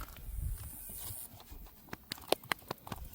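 Horse hooves clip-clopping outdoors on a hot day, a loose scatter of sharp hoof knocks in the second half after a softer, muffled stretch, fairly close and with no talk over them.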